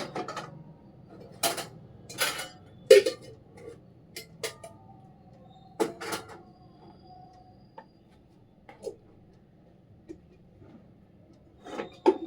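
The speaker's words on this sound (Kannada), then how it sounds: "ಪಾತ್ರೆ ಕೂಡ ಜೋಡಿಸ್ಕೋಬೇಕು, ಆಚೆ ಇದೆ ತಗೊಂಬಂದು." Kitchen vessels being stacked and put away: sparse, faint metallic clinks and knocks at irregular intervals in a quiet room.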